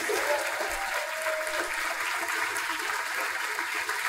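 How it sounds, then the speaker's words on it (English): A banquet audience applauds its guests of honor at a gaming convention dinner, PaizoCon 2014: a dense, steady wash of many hands clapping at once that stays full and even for the whole stretch. "I hope you, round of applause."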